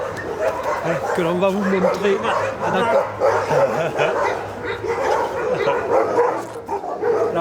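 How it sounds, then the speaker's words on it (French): Dogs barking and yipping amid a busy room, with people talking over them throughout; the barks come in bursts at moderate distance, mixed with whimpers. "Il y en a deux chiens sourds que l'on va vous montrer."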